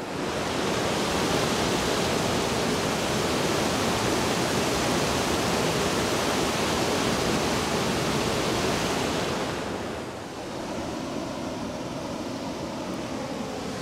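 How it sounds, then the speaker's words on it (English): Waterfall at a dam roars as a loud, steady wash of broadband rushing water for most of the clip, then softens slightly near the end. "You can probably hear the waterfall."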